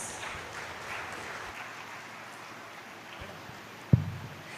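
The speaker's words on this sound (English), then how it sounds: "A big round of applause." Audience applause at the 3rd International Conference on Yoga and Naturopathy, a soft, fairly distant patter of clapping that fades, ending with a single sharp thump.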